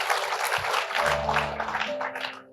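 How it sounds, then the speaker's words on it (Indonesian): Lively congregational clapping during a church service in Indonesia, a brief, fairly loud burst of many hands with a faint tone underneath. "Yang setuju berikan tepuk tangan yang paling meriah."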